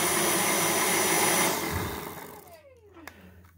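A Dyson V6 Motorhead cordless vacuum cleaner runs loud and close with a steady whirring roar, then spins down, its whine falling away into quiet.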